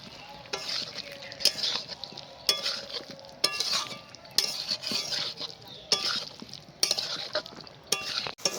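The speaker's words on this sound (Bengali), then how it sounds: "এবার এটাকেও আরও বেশ খানিকক্ষণ কষাবো" Fried jackfruit being stir-fried in spiced oil in a pan for a Bengali doi echor dish, with a soft sizzle under repeated scraping clinks of a spatula against the pan at a steady, irregular rhythm.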